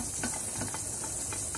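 A flour roux is stirred in an old Teflon pan, with scraping strokes and soft ticks over a constant loud sizzling hiss from the hot pan.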